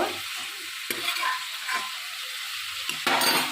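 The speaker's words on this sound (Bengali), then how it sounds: "সেটা আমি ঢেলে দেবো এর মধ্যে মশলার সঙ্গে ভালো করে একটু কষে নেব" Pressure-cooked boiled vegetables being stirred into spices in a frying pan for prawn and cauliflower curry, giving a steady close sizzle with a few scraping stirs of a spatula against the pan.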